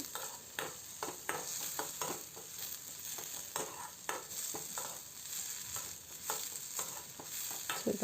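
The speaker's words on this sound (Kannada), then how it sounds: "ಚೆನ್ನಾಗಿ ಫ್ರೈ ಮಾಡ್ಕೊಳ್ಳಿ" Onions frying in a pan with a little salt, a continuous sizzle under frequent scraping and tapping of a stirring spoon, close and moderately quiet.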